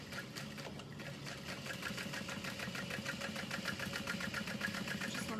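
Sewing machine running steadily as it stitches a seam on leather with a long stitch length, a fast, even mechanical whir and rapid needle chatter, continuous and close with no talk.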